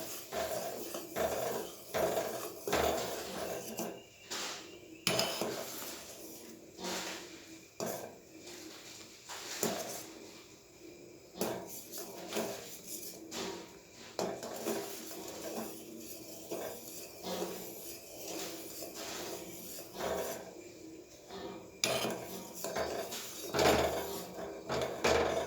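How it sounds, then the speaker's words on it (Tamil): Milk simmers in a pan for homemade condensed milk while a utensil stirs and scrapes against the metal, producing steady clattering and rubbing sounds that continue throughout, close and moderately loud with no talking. "இது நல்லா கிளறிகிட்டே இருக்கணும்."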